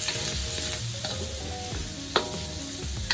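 Sliced onions sizzle and fry in a pan for a homemade chopsuey, a steady crackling hiss broken by a few sharp stirring clatters, close and fairly quiet with no voices.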